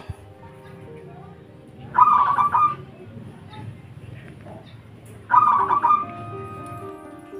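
A perkutut (zebra dove) coos in two short trilling phrases about three seconds apart, set over a low, steady background hum.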